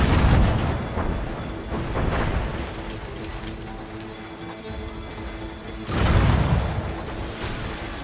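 A ship's cannon broadside thunders in Assassin's Creed Rogue, heavy booming volleys hitting at the start and again near the end, with a rumbling, crackling wash of noise between them and no voices.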